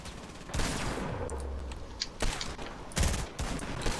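Rapid gunfire in the Fortnite video game, loud repeated bursts of shots with brief pauses between volleys.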